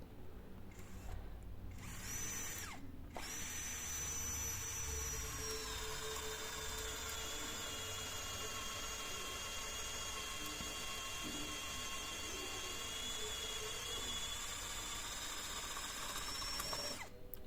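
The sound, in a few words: cordless drill boring a hole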